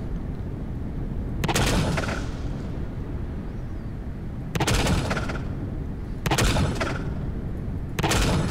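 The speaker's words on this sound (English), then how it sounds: "How does a drone handle that many rail gunshots?" Rail gun fire in a video game: four sharp, loud discharges with crackling high-end bursts, spaced irregularly over a constant low background hum, with no talking.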